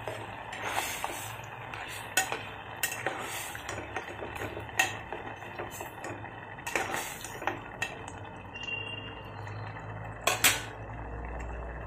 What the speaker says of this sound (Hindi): अभी मैं डालूंगी ये मूंग काला मूंग जो मैंने उबाल कर लिया था।